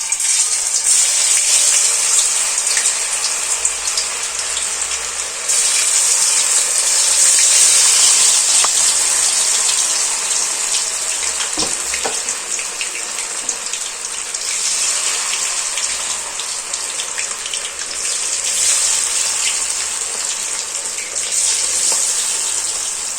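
Soya chunks and gobi manchurian deep-frying in hot oil on a high flame, a loud, continuous sizzle with no talk, surging and easing in waves over a long stretch.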